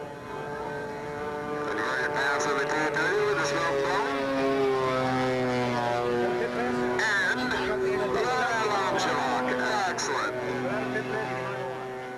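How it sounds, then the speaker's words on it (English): A radio-controlled Viper Avenger model airplane comes in to land, its small engine droning steadily and shifting in pitch at middle distance while someone narrates over it. "Steve Cantrell smoothly lands his Viper Avenger. As the Viper sets down for a nice landing."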